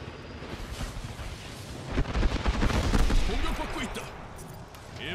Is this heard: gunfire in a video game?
yes